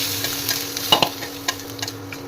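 Spice paste in a pan being stirred after chilli powder and turmeric go in, with scattered scraping clicks and a faint sizzle, one louder scrape near the middle, no voices.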